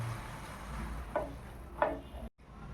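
Rice being stirred in a pot of water simmering on low heat for upma, with two soft scraping strokes of a spoon over a quiet bubbling hiss.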